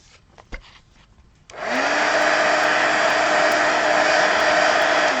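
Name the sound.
heat gun blowing on art cards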